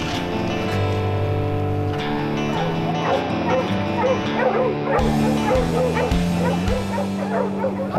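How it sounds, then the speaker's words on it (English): Pack of hunting dogs baying and yelping at a mountain lion treed in the Utah hills, a continuous chorus of overlapping bays and yips, loud and fairly close, with no talk. "We can hear them baying."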